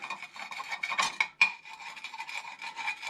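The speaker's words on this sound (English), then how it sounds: "Get some of that scraped off." Rasping scrape of a tool across an oily, greasy transmission mount bracket from a 1997 Jeep Wrangler TJ, a steady close scratching that runs throughout with a couple of sharper strokes near the middle.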